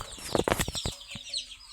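Ducks quack in a quick burst of several short calls nearby in a backyard, followed by quieter rustling and flapping.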